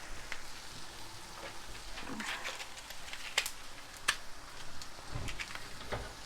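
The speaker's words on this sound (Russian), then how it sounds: "Так, теперь быстренько это будет обжариваться." Food sizzling in a frying pan in a home kitchen, a steady soft crackle with occasional sharper pops, heard faintly with some background voices.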